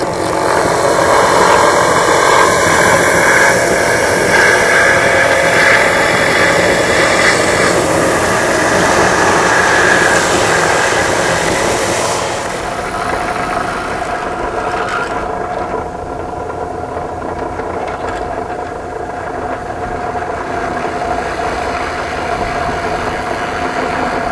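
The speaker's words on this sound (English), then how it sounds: "We're going to sand it smooth on the belt sander." A belt sander smoothing a piece of zither wood runs with a loud, steady mechanical whir and grinding hum, close by, shifting to a lower, quieter tone partway through, with no talking.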